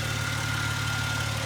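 A 1995 Jaguar Sovereign 3.2 straight six idles on petrol with a steady, even hum and faint vibration, quiet and unchanging close by, no voices present.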